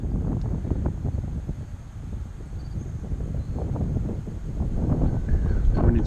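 Strong gusty wind buffets the microphone outdoors on a blustery day of drone flying, a steady loud low roar that swells toward the end, with no voices.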